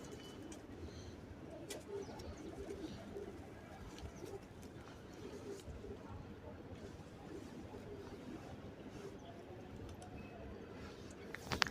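Soft cooing of racing pigeons close by under quiet background noise, with a few faint chirps and a brief clatter at the end.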